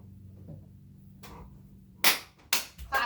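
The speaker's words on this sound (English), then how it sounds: "Clapping, yeah." A few claps ring out in a third-grade classroom while children count syllables: three sharp, fairly close hand claps in quick succession near the end, after a faint low background hum.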